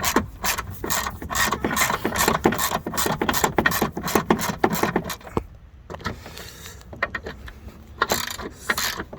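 A ratchet wrench clicks rapidly and steadily while backing out a long bolt on the front bumper of a BMW E39 528i. The ratcheting pauses briefly, then resumes in a few shorter runs of close, loud clicking.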